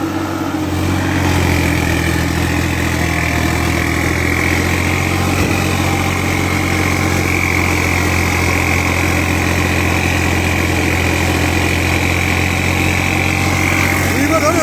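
A turbocharged tractor engine runs in second gear with a steady, loud, close drone and constant rumbling vibration throughout, without pauses.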